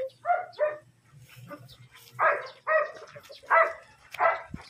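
Several dogs bark indoors in a house, with short sharp barks in clustered pairs and a brief yelp, fairly close and loud, separated by a low steady background hum.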